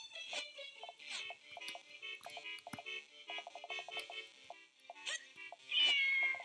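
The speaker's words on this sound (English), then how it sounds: "I love silly kitties and kittens." Cartoonish cat meows from the video game The Legend of Zelda: The Minish Cap, several short chirpy mews mixed with beeping game tones and melodic blips, ending in a louder bright cry.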